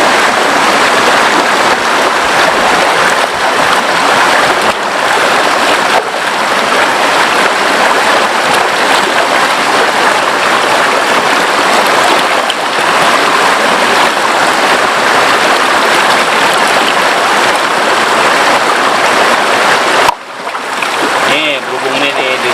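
River water rushes in a loud, steady, broadband wash at a riverside where food is being washed, continuous throughout, with people talking faintly beneath it.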